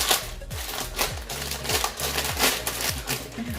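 A packaged Azerbaijani snack being torn open: close, continuous plastic crinkling and rustling with rapid clicky crackles, heard alone without talk.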